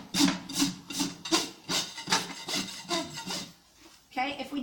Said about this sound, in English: I'm just going to lightly rasp off the tips of those nail heads